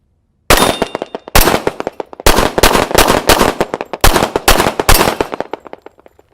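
Rapid string of loud, close 1911 pistol shots fired at steel targets during a timed shooting drill, coming in tight bursts separated by brief pauses, with sharp echoing cracks.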